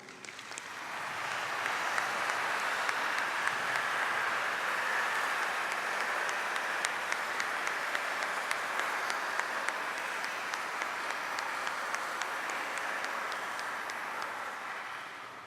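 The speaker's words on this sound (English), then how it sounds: "I invite the audience to join me in a round of applause for SCF's finest" An audience at a college winter commencement ceremony applauds the faculty in a long, even roar of clapping from a large crowd that swells, holds steady and slowly tapers off, with no speech over it.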